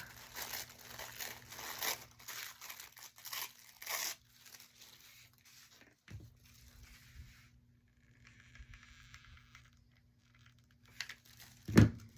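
Glassine paper bag being cut smaller, crisp crinkling and snipping in bursts for the first few seconds, then quieter handling and a sharp thump near the end, close up with no talking.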